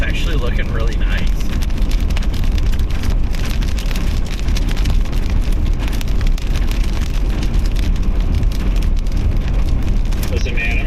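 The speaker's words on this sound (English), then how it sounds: "Raindrops falling on my head." Rain drums steadily on a car during a Nebraska supercell storm chase, a loud, dense patter that runs without a break. Thunderstorm rumble sits low underneath.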